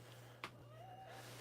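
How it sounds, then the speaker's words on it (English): A pet cat gives a single drawn-out, distressed-sounding meow, close and fairly quiet over a steady low hum, preceded by a brief bump. "He always sounds so distressed, his meows."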